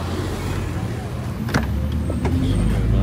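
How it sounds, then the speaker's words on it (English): A Grab ride-hailing car pulls up at a busy car meet in Singapore, its engine a steady close rumble with a few short clicks, as people talk over it. "A Grab has arrived."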